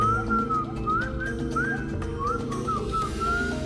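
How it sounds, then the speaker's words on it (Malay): Whistled language of the Pirahã people, a series of short rising and falling whistled phrases over a dense, steady background, moderately loud and continuous. "Mereka akan menggunakan bahasa bersiul."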